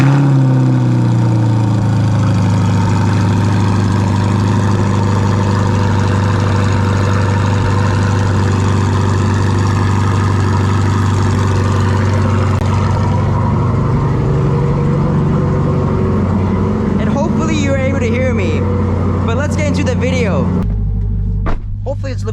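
A Corvette C8 Z51 with a naturally aspirated 6.2-litre V8 cold-starts, then settles into a loud, steady, deep idle rumble that holds for about twenty seconds before briefly dropping near the end.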